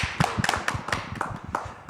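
Light applause from a small group at a Korean job-seeker mentoring event, scattered irregular claps fairly close, sparse and brief rather than a full ovation, with no talk.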